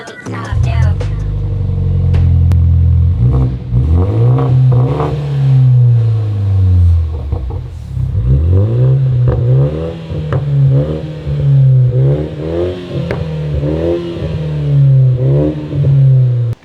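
A BMW 330 with 4.5-inch black AWE exhaust tips revs repeatedly, loud rising and falling sweeps with crackling pops and bangs as the revs drop, heard close up.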